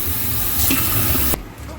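Cold water poured from a jug into a mixing bowl for bannock dough, a steady rushing splash that runs close and loud for over a second, then cuts off abruptly.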